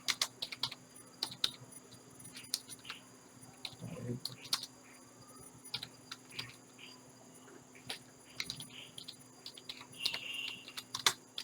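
Steady typing of HTML code on a computer keyboard, quick clicky keystrokes in short irregular bursts with small pauses, recorded close in a quiet room.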